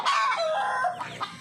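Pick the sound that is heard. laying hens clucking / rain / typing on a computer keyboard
laying hens clucking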